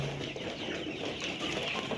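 Nourish layer pullets around 67 days old clucking in a partitioned poultry shed, a dense, faint, steady chatter of many birds with no talk.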